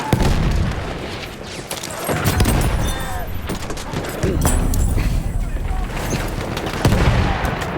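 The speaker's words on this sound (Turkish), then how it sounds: "Bomba atıyorum!" Grenade blast in Battlefield 1 amid a loud Gallipoli battle at Cape Helles, booming over a continuous din of gunfire and explosions, with voices shouting through the chaos.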